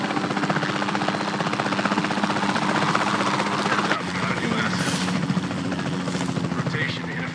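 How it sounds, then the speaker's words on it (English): Helicopter rotor thudding steadily in the dinosaur park game Jurassic World Evolution 2, loud and continuous with a rhythmic chop, with game sounds and voices over it. "Where's the helicopter?"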